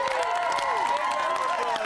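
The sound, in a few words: studio audience applause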